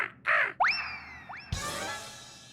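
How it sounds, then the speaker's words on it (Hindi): A crow caws a few times, loud and close: harsh, brief calls with rising, twangy tones, then a sudden burst of broadband noise near the end. "ये तो कौवा है।"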